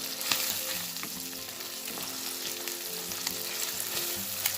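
Julienned white onion strips fry in a pan, giving a steady, close sizzle with faint crackles throughout and no talking.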